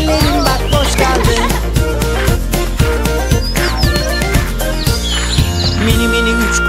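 Little bird chirps in a children's song about three small birds, rising and falling in short repeated tweets over a loud, rhythmic musical backing with steady beats.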